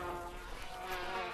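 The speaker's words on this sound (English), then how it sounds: "and then a whole bunch of bees go on it." A swarm of bees in the Gorilla Tag video game makes a steady, close insect buzz with a droning hum that stays fairly even through the short stretch.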